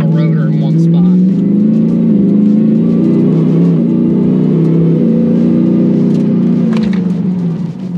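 A pickup truck with 700+ horsepower drives while its new Baer brake pads are bedded in, giving a loud, steady engine drone with rising and falling revs, and someone talking over it.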